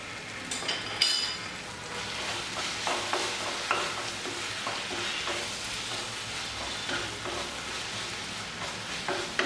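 Vegetables and sauce for chilli paneer fry in a hot pan, a loud steady sizzle with the scrape and clatter of stirring running throughout, heard close and alone with no talk.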